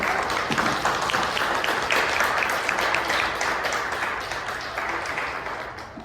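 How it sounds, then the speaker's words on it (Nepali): A Sunday church congregation clapping their hands together, a dense sustained round of applause from many people that holds steady and then slowly thins toward the end. "एकपल्ट सबैले ताली बजाएर परमेश्वरलाई धन्यवाद दिनु।"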